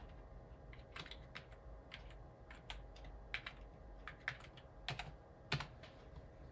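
Key presses on a Power Mac G4 computer keyboard as a password is typed, a run of distinct clicky taps at an uneven rhythm, close and fairly quiet, with no talking.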